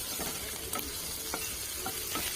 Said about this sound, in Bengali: এই চিংড়ি মাছগুলো হালকাভাবে ভেজে নিতে হবে।